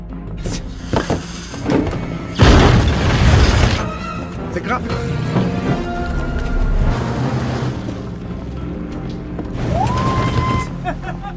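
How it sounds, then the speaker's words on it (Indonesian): A loud dynamite explosion with crashing debris erupts mid-clip in a film, surrounded by dramatic film sound effects and a voice speaking. "Maka dinamit pun langsung meledak."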